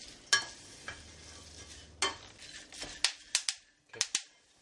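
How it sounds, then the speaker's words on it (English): Pepitas toasting in a pan pop and crackle in sharp, irregular bursts, several quick snaps clustered near the end, close and crisp over a faint background sizzle, with no voices. "that cracking sound? A little bit like popcorn. And they're toasting up very nicely."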